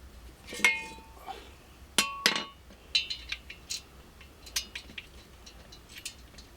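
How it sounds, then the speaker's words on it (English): Bolts are wrenched tight while assembling a GEARWRENCH adjustable mobile work table. Sharp metallic clinks and taps come one at a time at an irregular pace, some louder and ringing, against a quiet background. "You don't need to watch me turning bolts."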